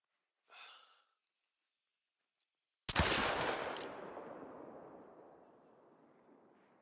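A single loud hunting rifle shot in theHunter: Call of the Wild cracks out after a faint breathy sound, then a long echoing boom that slowly fades away.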